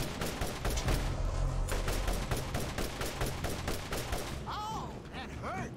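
Rapid automatic gunfire in a Borderlands video game, a dense run of loud, evenly spaced shots for about four seconds, then quieter ambience with a brief voice near the end.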